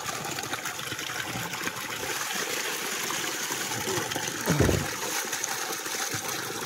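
Water runs and trickles steadily into a container outdoors by a river, a constant hissing flow with one brief splash, fairly faint and alone.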